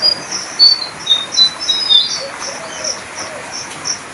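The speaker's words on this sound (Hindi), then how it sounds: "तभी सफेद गोरी चिड़िया वहां आ पहुंची।" A small bird chirps in a children's animated story, a string of quick, high tweets repeating in an uneven rhythm, close and clear over a quiet background.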